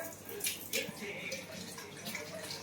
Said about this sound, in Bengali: এবারে একে একে ধুয়ে নেবো